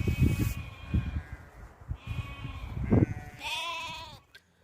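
Goats and sheep bleat in a Kashmiri Gujjar herding village in Ganderbal, with several loud, wavering calls close by, one after another, and no speech.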